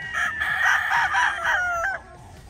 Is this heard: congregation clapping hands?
no